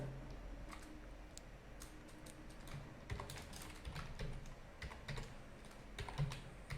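Computer keyboard typing while writing HTML and CSS code, steady irregular clicks and key taps, close and fairly quiet, with a few louder clusters of keystrokes toward the end.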